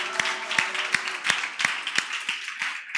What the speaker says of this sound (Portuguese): Salve de palmas para ela